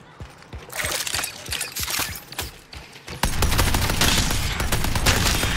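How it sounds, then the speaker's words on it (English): Rapid automatic turret gunfire in the Deadlock video game, dense bursts of shots that swell into a loud, continuous barrage of fire with clattering impacts. "Setting up a turret."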